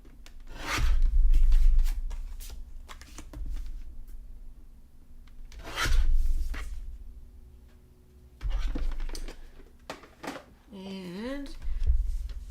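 Paper being trimmed for a scrapbook page, with repeated scraping, rubbing cuts in several separate bursts and a short squeak near the end, close by, with someone talking between them.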